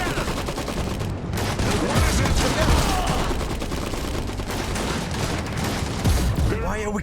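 Dense gunfire fills a battle in the Iron Harvest strategy game, rapid overlapping shots and bursts rattling loudly and continuously, with voices heard amid the fighting.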